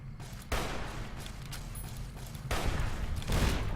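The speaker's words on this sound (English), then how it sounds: "I just shot him with a hunting rifle, bro." Hunting rifle gunshots in the Fallout video game, heard as loud broadband blasts at the start and again near the end, with sustained noisy rumble between them and no talk.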